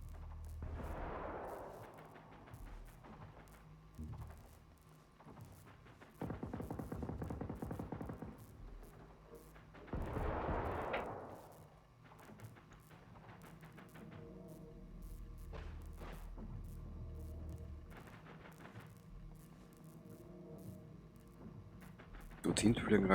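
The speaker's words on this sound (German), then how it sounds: "Dorthin fliegen Raketen" Rockets whoosh and explode in the video game Generation Zero, with booming blasts and scattered gunfire among rumbling battle noise, while a voice talks over the action in places.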